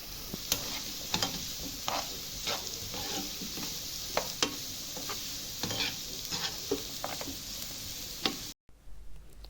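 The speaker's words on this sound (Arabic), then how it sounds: "اول ما البصلة ما بتدبل بنحط عليها الفلفل وبنشوحه مع البصل." Peppers and onions sautéing in ghee, an even, close sizzle punctuated by regular clicks and scrapes of stirring, cutting off abruptly to near silence at the very end.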